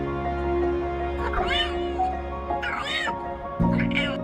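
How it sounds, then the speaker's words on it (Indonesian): A cat with an unusual, funny-sounding voice meows indoors at home, giving three rising, whiny calls spaced a second or so apart over steady background music or hum. "Dia selalu meong di rumahnya dengan suaranya yang lucu."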